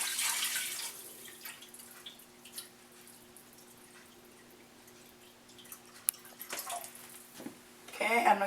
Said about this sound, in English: I'm going to add a little bit more water because I don't think that's enough juice.